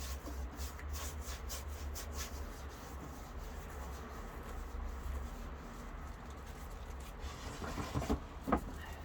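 Hand sanding of painted wood for a distressed rustic finish, a continuous soft rasping rub with steady rhythmic strokes, close and moderately quiet, a couple of louder knocks near the end.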